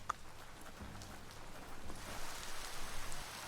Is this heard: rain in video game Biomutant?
yes